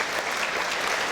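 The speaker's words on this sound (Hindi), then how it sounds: "एक बार जोरदार तालियां हो जाए हमारे नन्हे कलाकारों के लिए।" An audience claps loudly and continuously for child actors after a short play at an ashram gathering, a dense, even burst of applause with no voices.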